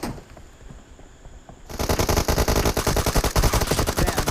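Automatic gunfire in a team deathmatch shooter video game with M416 rifles: after a quieter opening, a loud sustained burst of rapid rhythmic shots runs to the end, close and dense, with no voices.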